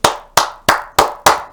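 Five sharp, evenly spaced claps sound up close, each one loud and snapping, with no voices.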